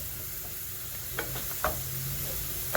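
Sliced mushrooms for beef stroganoff stirred around a hot pan: low steady sizzle broken by a few quick scraping and clattering strokes, close and fairly quiet.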